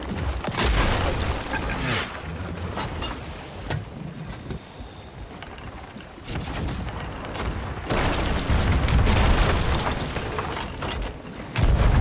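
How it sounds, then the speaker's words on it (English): Ship cannons firing in Sea of Thieves, several heavy booming blasts spaced irregularly amid wind and water noise on deck, loud and close. "Alright, right side cannons."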